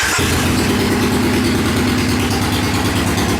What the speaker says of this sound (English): I'm going to fire the bike up and let you hear how it runs